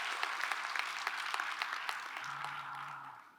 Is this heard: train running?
no